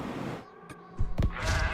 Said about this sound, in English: I can hear the goat now.